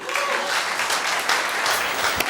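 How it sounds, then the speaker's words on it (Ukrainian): Dense applause from an audience at an improv show, steady and close throughout, with no voices above it. "Оплески їм"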